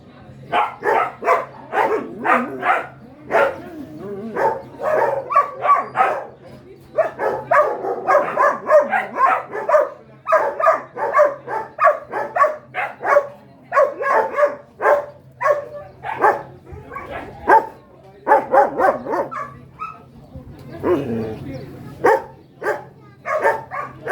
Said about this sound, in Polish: młode pieski.